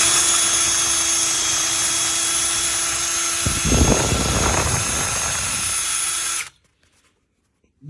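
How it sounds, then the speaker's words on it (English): A cordless DeWalt 20V drill fitted with a wire brush scrubs rust off a rotor, giving a loud, steady, close whirring grind with harsh scraping that swells midway, then cuts off abruptly near the end, leaving silence. "And now I'm using the brush to clean the rust off"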